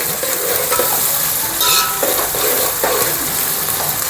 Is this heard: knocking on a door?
no